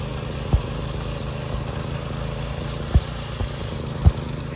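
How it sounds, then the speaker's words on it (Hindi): A tractor ploughing a field drones with a steady, low engine rumble throughout, broken by a few dull thumps, with no voices. "तो ट्रैक्टर से ही हल लगा रहे हैं।"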